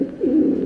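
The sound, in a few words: pigeon cooing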